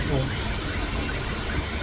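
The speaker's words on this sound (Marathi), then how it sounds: "पाऊस चालू आहे" Rain falling during a village outing, heard as a steady, dense hiss that fills the whole moment, with faint voices underneath.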